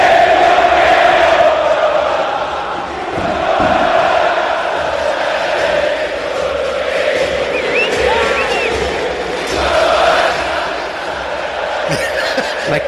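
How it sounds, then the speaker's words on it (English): A huge stadium crowd chants Diego Maradona's name. The roaring, rhythmic chanting swells and recedes continuously, loud and dense throughout, with whoops and cheers on top. "And they are chanting his name"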